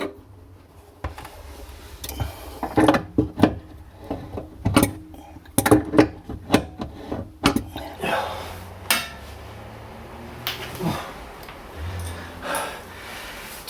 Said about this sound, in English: I'm just trying to undo the little nut on the very, very long threaded bolt that holds the tap in place